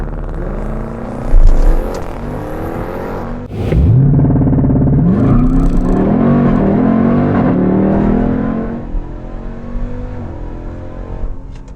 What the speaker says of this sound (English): Let's do a launch control test, because, oh man, can it do launch control. Hit launch, left foot on the brake, full throttle.